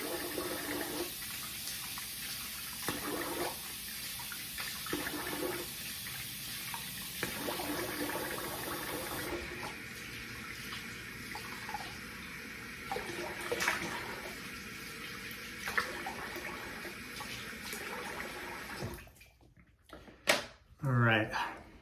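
Tap water runs steadily for a face rinse during a wet shave in a bathroom sink, a continuous close splashing hiss with brief pauses and small knocks, ending with a few louder clatters.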